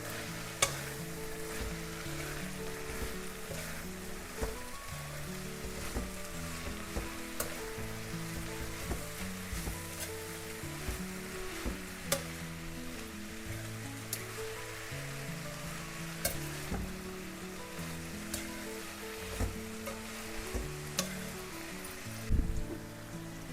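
Masala puri ingredients, including coriander and mint, frying in a pan, with a continuous sizzle under busy clinks and scrapes of stirring, steady and fairly close, with no talking.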